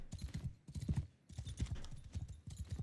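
Rhythmic hoof clip-clops of a horse walking in the video game Mount & Blade II: Bannerlord, steady and close, in repeated bursts with brief pauses between them.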